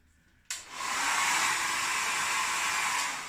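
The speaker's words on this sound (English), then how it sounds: "get your hairdryer on it" A hairdryer switches on abruptly and blows a steady, loud rushing stream of air onto fresh polyfiller on a wall, holding constant after a brief surge.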